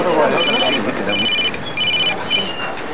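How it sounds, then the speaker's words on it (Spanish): A Charlie's Angels theme ringtone on a mobile phone, a short repeating electronic melody in bursts, played under a voice talking over it. "¿Quieres que tu móvil suene igual que el de Los Ángeles de Charlie?"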